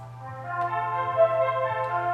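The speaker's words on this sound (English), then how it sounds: "so it kind of gives it this like high pitch kind of like radio fuzzy kind of noise" An instrument filtered through a Midnight EQ preset gives a thin, low-cut, fuzzy radio-like tone, with sustained tonal notes over a faint hum at moderate volume and no talk.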